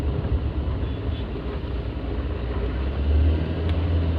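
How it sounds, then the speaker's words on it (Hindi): A manual car drives on after a shift into third gear. It gives a steady, muffled engine rumble heard from inside the cabin, and the low drone swells slightly toward the end. "मैंने स्पीड ली थोड़ी सी और ये क्लच दबाई, रेस छोड़ी, और उसके बाद मैंने ये लगा दिया थर्ड गियर"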